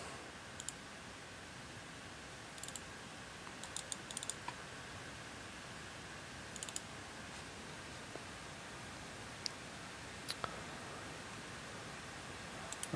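Computer keyboard typing while entering values in flight simulator scenery software, appearing as sparse, brief clusters of key clicks over a steady background hiss, fairly faint and with no talking.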